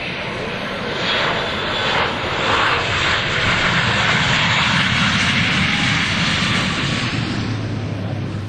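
US Navy Blue Angels jets at the 2003 New York International Airshow, a loud, steady, broadband roar that stays strong and continuous throughout with no clear pauses.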